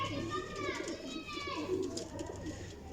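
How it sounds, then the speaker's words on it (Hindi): A Teddy golden flying pigeon coos softly among other birds, its low murmuring calls running under steady nearby talk. "लो जी माशाल्लाह टैडी कबूतर"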